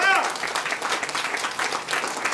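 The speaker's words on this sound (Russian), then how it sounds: "Пожалуйста, аплодисменты хозяйке." An audience at a Russian poetry award ceremony applauds the host, a brisk burst of crowd clapping that starts right away and continues steadily, with a voice heard briefly at the start.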